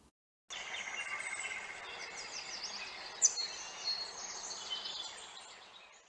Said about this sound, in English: There are lots of birds in the garden.